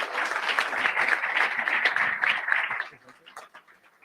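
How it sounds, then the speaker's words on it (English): A dense crowd applauds youth pitch competitors at a national competition. The clapping stays full and steady for about three seconds, then thins and fades to scattered claps. "Please give them a big round of applause."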